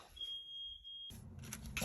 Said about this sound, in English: And that is my alarm going off.